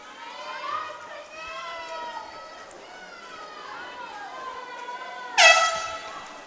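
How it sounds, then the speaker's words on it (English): An announcer talks over crowd noise at a high school swimming meet, then a loud air horn blasts near the end and rings out briefly. "As the air horn signifies she's on her final"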